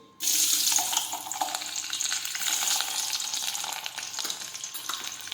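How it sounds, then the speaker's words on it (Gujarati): Garlic drops into hot oil for a Gujarati tempering and bursts into a sudden loud, close sizzle that then settles into a steady crackling fry, with no voices. "હવે આપણે તેમાં લસણ નાખી દઈશું."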